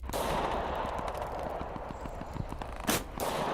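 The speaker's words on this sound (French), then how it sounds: "Et là, vous entendez encore les coups de feu là, sur la position de Lopez." Scattered popping shots sound in the distance, irregular and muffled, over a steady rumbling background with one louder burst near the end.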